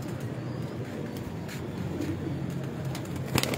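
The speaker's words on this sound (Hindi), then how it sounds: "माशाल्लाह बहुत प्यारा कबूतर है।" Pigeons coo softly on a rooftop in Dera Ghazi Khan, low murmuring calls under steady background noise, with a few light clicks and taps near the end.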